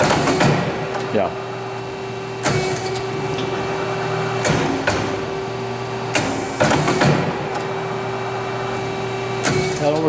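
Horn CNC18TDRE electric servo CNC tube bending machine running with a steady mechanical hum, broken by repeated clamping clunks and whirring motion bursts roughly every two seconds; voices talk faintly over the machinery.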